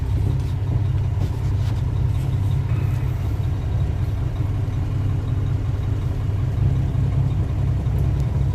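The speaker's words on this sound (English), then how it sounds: "We got cars going around me" Cars on a highway passing around a blocked ramp during roadwork: a steady, loud low rumble of engines and traffic, close and continuous, with no speech.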